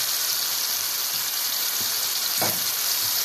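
Onions frying in hot oil while being stirred until they wilt, a steady close bright sizzle with a few soft scraping stirs breaking through.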